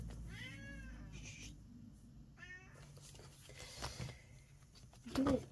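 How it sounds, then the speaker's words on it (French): A small cat gives a few soft, drawn-out meows in a quiet indoor room, followed by a brief rustle near the end. "le petit minou est là"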